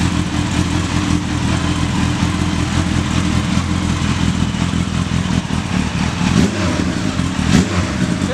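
A motorcycle with an aftermarket straight-through silencer idles loudly up close, a steady throbbing rumble with mechanical clatter that holds evenly for several seconds, with no voices over it.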